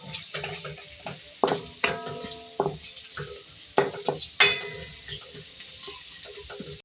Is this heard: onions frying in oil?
yes